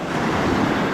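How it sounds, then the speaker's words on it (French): Waves breaking on a beach at Baie de Briande near Port Fréjus: a loud, close, steady wash of surf mixed with wind rush, continuous for the whole second. "Quelques belles vagues en arrivant sur la plage"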